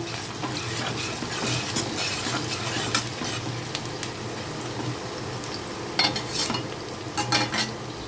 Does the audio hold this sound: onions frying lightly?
yes